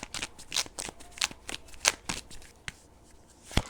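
Oracle cards being shuffled by hand during a tarot-style reading: a run of quick papery riffles and flutters in short bursts, close and fairly soft, with a final sharp card snap near the end.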